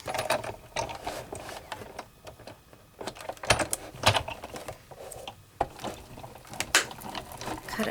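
A Sizzix die-cutting machine is cranked as a die sandwich with clear plates rolls through, giving close, irregular mechanical clicks, ratcheting and grinding of moderate loudness with no talk.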